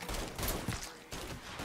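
Rapid gunfire bursts in the video game Mafia 3, dense and loud with a steady rattle across the short stretch, no talking over it.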